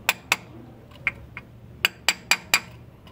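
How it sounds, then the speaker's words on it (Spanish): Metal hammer taps seating a crankshaft seal on a Chrysler Voyager, Caravan or Town & Country engine: seven light, sharp strikes, close and clear, two early, a scattered pair in the middle, then four evenly spaced in quick succession. "le voy a dar unos pequeños golpes con mi martillo"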